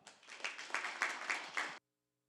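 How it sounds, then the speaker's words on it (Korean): Audience applause welcoming a presenter at a policy forum on a west coast railway, a short burst of steady clapping from a seated crowd that cuts off abruptly after under two seconds. "큰 박수로 모십니다."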